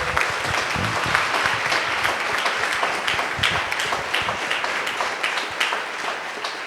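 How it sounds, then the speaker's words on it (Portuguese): A Baptist church congregation applauds during a pastoral consecration service, sustained dense clapping with a few louder individual claps, steady throughout and without speech. "uma salva de palmas ao Senhor"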